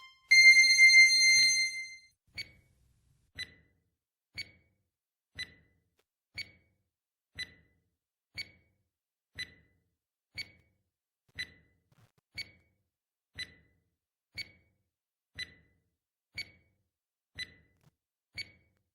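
A countdown timer for a 20-second math challenge, opening with a short electronic chime, then a steady tick about once per second, clean and isolated against silence.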